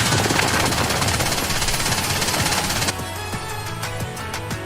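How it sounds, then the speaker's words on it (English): Heavy machine gun firing in a video game, a dense continuous burst that switches partway through to sparser, sharper individual shots over a steady low hum. "I just realized Mihara's using a heavy machine gun."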